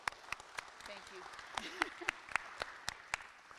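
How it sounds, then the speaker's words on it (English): Scattered, faint clapping from a small audience at an elementary school living history presentation, single claps spaced irregularly, with a voice murmuring underneath. "If we could get a round of applause for her and her group"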